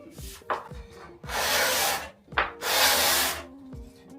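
Two long, dry card-scraper strokes across spalted sycamore wood, scraping more like sanding than shaving, each a second or so of broad gritty rasp, close up with short clicks between them.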